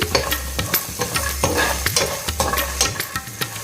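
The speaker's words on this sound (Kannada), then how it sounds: "ಹುಣಸೆಹಣ್ಣು ಎಲ್ಲನೂ ಹಾಕಿ ಸ್ವಲ್ಪ ಹೊತ್ತು ಹುರ್ಕೊಳ್ಳಿ ಸಣ್ಣ ಫ್ಲೇಮಲ್ಲೇ ಹುರ್ಕೊಳ್ಳಿ" Tamarind, garlic and other ingredients dry-roasting in a pan on a low flame for groundnut chutney, stirred in a steady run of scraping strokes over a soft, continuous sizzle, close up with no talking.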